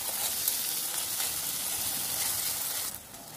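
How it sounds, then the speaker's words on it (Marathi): Finely chopped tomato sizzles steadily in a hot pan, a dense close frying hiss that drops off sharply near the end, with no talking. "त्यामध्ये आपण बारीक चिरलेला टोमॅटो, तो सुद्धा आपल्याला चांगला असा परतून घ्यायचा आहे, चांगला शिजवून घ्यायचा आहे"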